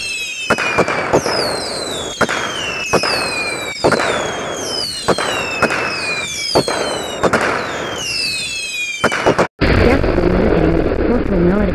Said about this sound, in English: I will set off fireworks in the restroom.